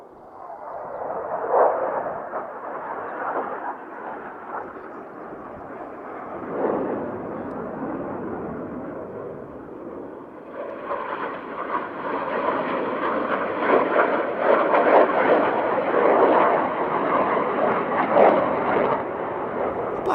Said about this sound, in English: A formation change by means of 4 opposing aileron rolls, and that is called the vortex.